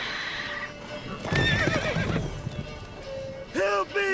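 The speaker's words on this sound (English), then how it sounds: "Whoa there, Roach." Horse neighing and whinnying in the video game The Witcher 3, with hooves clip-clopping as someone speaks over it, then a second loud, close whinny at the end.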